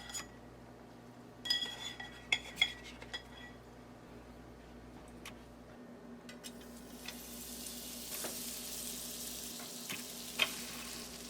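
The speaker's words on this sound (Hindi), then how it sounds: "मीडियम फ्लेम पर इसे टोस्ट करेंगे।" French toast fries in a pan over a medium flame, a faint sizzle that grows toward the end, broken by a few light clinks of a utensil against the pan, with no one speaking.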